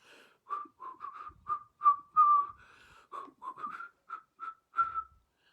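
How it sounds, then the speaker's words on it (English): A person whistles a melodic tune alone outdoors in bear country, a string of clear separate notes with some held longer, close and moderately loud. "I started whistling."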